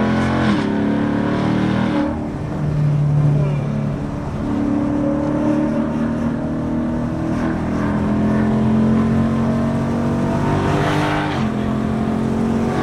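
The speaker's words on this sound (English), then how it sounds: "Driving revs a little bit as well while we're driving." Ford Mustang GT V8 exhaust revving on the move, a loud, steady engine roar with rising and falling revs throughout and a brief tire squeal, close and continuous.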